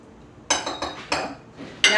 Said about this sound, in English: And then give it a whisk.